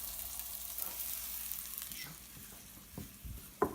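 Oyster mushrooms sizzling steadily in a hot pan for a curry, a close, continuous hiss of frying with a few scrapes and taps of stirring near the end.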